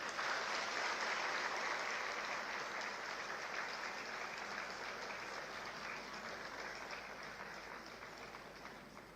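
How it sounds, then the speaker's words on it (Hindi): Audience at a hospital institute ceremony in Lucknow applauds guests being welcomed with mementos. The clapping is dense and steady, loud at first and tapering slightly over about nine seconds, with no talking on top. "तालियों से स्वागत करें।"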